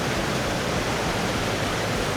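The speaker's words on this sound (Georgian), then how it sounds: "ეს არის მინერალური წყალი. სამყინვალო ზოღურის წყალი." Mineral spring water flowing in a steady, close, continuous rush with no other sounds.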